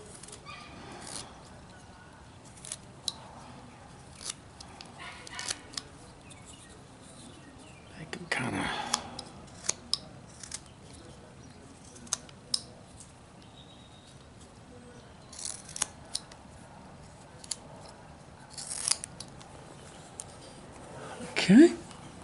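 A carving knife cuts into wood while shaping a caricature snake: scattered faint scraping and clicking knife strokes at irregular intervals, close and quiet, with occasional soft low speech between cuts.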